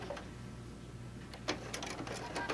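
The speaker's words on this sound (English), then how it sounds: "we're gonna tuck it under the foot and we're gonna do about 4 or 5 stitches" A sewing machine runs a few stitches across the corner of a quilt top, a faint, quiet mechanical whir with light clicking that picks up briefly near the end, with no talk.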